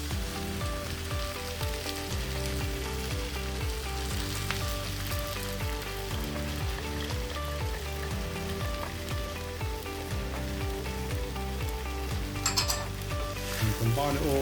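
Mongolian beef stir fry with its sauce in a cast iron skillet: a steady sizzle and occasional pan clatter that runs throughout, partly buried under continuous background music.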